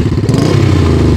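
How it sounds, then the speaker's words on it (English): A 1968 Honda CL350 Scrambler, a four-stroke twin-cylinder with twin carbs and dual high-pipe exhausts, runs with a steady, close, loud low rumble and a slight uneven pulse. "Nice rumble from the dual exhaust on the four-stroke twin-cylinder, twin-carb, double high-pipe Scrambler."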